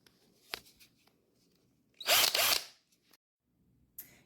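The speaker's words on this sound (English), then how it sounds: "So I'm going to use my drill here." A cordless power drill backing screws out of old blind mounting boxes: short separate whirs, a sharp burst near the middle and a brief final spin, close by with quiet gaps between.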